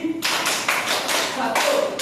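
Fifth-grade pupils clap together in a classroom, a run of four or five loud, slightly ragged group claps close to the listener, with a voice faintly underneath.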